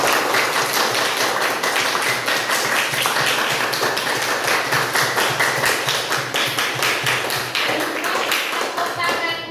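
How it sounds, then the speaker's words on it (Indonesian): A primary school class of fifth graders claps together at the end of an Indonesian lesson, a steady dense patter of many small hands filling the room throughout, with a teacher's voice speaking over it. "Tepuk tangan untuk kita semua."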